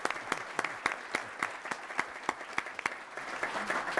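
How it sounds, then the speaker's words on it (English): Audience at a Cleveland-area forum on Ohio manufacturing gives a round of applause, sustained, steady clapping from a moderate-sized crowd lasting throughout. "Could everyone please give Rick Jackson a round of applause?"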